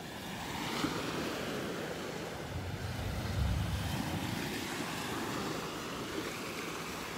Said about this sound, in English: Love the waves, the sounds of these waves.